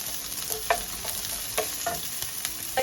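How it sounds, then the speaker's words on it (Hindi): Onions and green chilies sauté in a pan for a spicy eggplant sabzi, a soft steady sizzle broken by a few clinking stirs of a spoon against the pan, with no voices. "इनको हम थोड़ा सा इनको भी सौते करेंगे"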